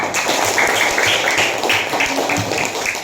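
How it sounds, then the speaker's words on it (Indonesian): Classroom students clapping for a classmate, a brief, somewhat ragged burst of applause mixed with children's voices, fairly close and steady for a few seconds. "Tepuk tangan untuk Asisa"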